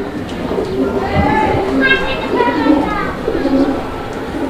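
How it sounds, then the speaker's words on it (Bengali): Male roller pigeons coo repeatedly in soft, throaty rolling calls, close by, with a person talking over them throughout. "এই যে নরের ডাক দেখেন"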